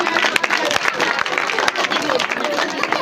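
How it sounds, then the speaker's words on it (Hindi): Children and adults at a Christmas celebration clap for an anchor, a dense burst of applause with crowd murmur and a voice speaking over it, lasting a few seconds. "तो एक बार जोरदार तालियां हमारे एंकर के लिए"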